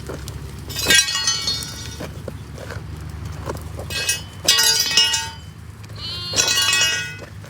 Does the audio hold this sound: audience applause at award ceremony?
no